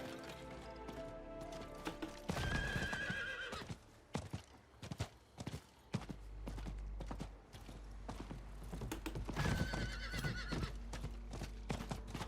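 A horse in the Diablo 4 video game whinnies twice, about eight seconds apart, over steady clip-clopping hooves and a low game backdrop, with no talking.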